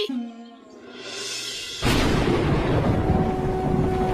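A fierce rainstorm breaks with a sudden loud onset, heavy rain roaring steadily with a low rumble beneath; before that, quieter ambience with a faint tone.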